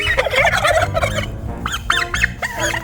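Turkeys gobbling in a paddock, a flock of hens calling together in loud, overlapping bursts that repeat in rapid rhythmic gobbles close by.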